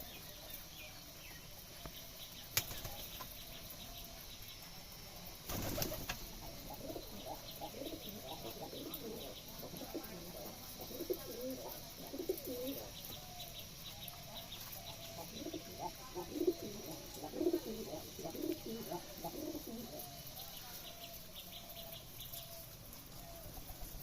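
Giribaz pigeons kept at a loft in Rajshahi coo in soft, overlapping throaty phrases at moderate distance. A couple of sharp rustling bursts near the start could be wingbeats, and faint chirps sit over steady background hiss.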